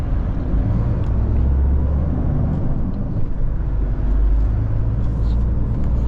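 A truck rolls slowly through a narrow street in Ukraine, a steady low engine rumble heard from inside the cab, with someone talking over it.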